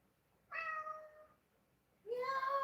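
A cat meows twice, close and clear, each call drawn out for about a second with a short quiet gap between them.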